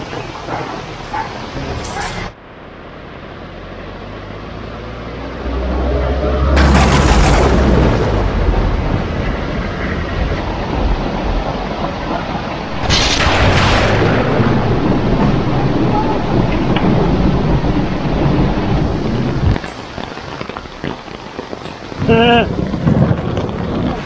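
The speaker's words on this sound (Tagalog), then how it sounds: "Lakas na naman ang ulan." Loud, heavy rain roars steadily over a street-vendor stall's tents with gusty wind buffeting the microphone; a low thunder rumble swells in the middle. No thunderclap stands out clearly.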